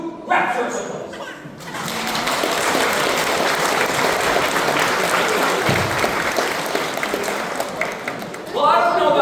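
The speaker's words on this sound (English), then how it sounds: "I have won the bout to rapturous applause." Applause follows a sword fighting demonstration at the Royal Armouries Museum, sustained crowd clapping that swells for several seconds before fading, with brief voices at the start and end.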